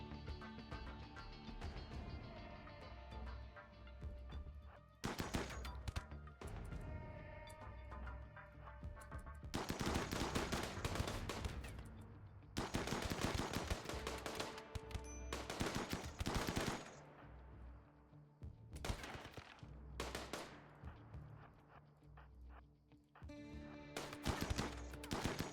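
Heavy weapon gunfire in a video game, with long loud bursts of rapid automatic shots broken by short pauses, close and dominant throughout.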